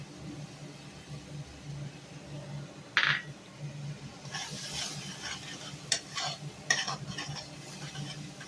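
Cashew paste going into a frying pan and being stirred, with a faint sizzle under scattered scraping and clinks of a spoon, including one sharp clink and a few later scrapes.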